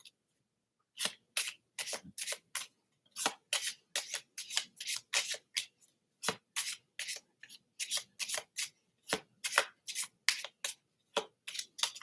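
Tarot cards are shuffled repeatedly up close, quick crisp riffles and brushing bursts coming in a steady rhythm with short pauses between.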